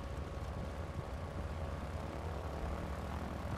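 A propeller airplane in Battlefield 1943 drones steadily overhead, a continuous low engine rumble at moderate distance with no other notable sounds.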